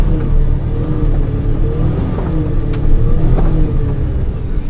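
The engine of a Suzuki Jimny JB23 fitted with lockers, a lift and a snorkel drones and rumbles continuously as it drives off-road, straining and bogging in four-wheel drive, close and loud with no talk.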